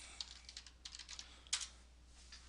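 Quiet, close typing on a computer keyboard, a short burst of soft scattered keystrokes with one sharper tap midway.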